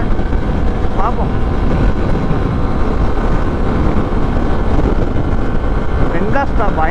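Hero XPulse 200 motorcycle at speed on the road, with heavy, steady wind roaring over the microphone for the whole stretch and a few faint chirpy vocal bits buried underneath.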